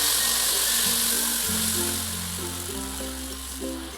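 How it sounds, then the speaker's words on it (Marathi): Water poured into a hot pan of fried besan and green chilli sets off a broad, steady sizzling hiss that gradually eases, with tonal music playing underneath. "आता पाणी घालणार आहोत."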